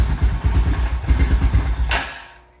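A 2000 Honda Foreman 400 4x4 ATV engine idling after a wasp nest was blown from its exhaust, a near, lumpy, pulsing chug with a clattery edge, ending in a brief hiss as it fades.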